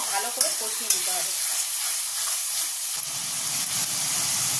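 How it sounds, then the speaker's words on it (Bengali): Spice masala with chana masala, coriander powder and salt stir-frying in oil for rajma masala gives a continuous close sizzle, with a few scraping strokes of the spoon near the start. "মশলাটাকে ভালো করে কষিয়ে দিতে হবে"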